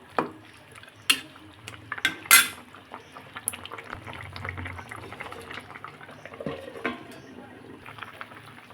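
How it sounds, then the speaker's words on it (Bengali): A pot of Rohu fish curry simmers and bubbles, a low gentle boil punctuated by several sharp clanks of a utensil against the pot early on, with quieter bubbling afterward. "মাছগুলো দিয়ে দিয়েছি এখন কিছুক্ষণ ফুটিয়ে নামিয়ে নেব"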